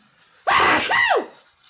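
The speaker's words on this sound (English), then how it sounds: "What a giant sneeze." One loud, close sneeze from a man: a sharp sudden burst with a rising then falling vocal tail, standing alone against near silence.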